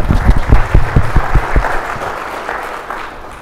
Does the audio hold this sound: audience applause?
yes